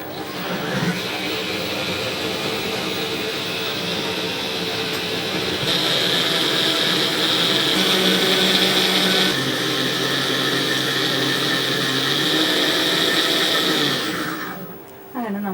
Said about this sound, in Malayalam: ഇതെല്ലാം കൂടി ചേർത്തിട്ടൊന്ന് നന്നായിട്ടൊന്ന് ബ്ലെൻഡ് ചെയ്യാം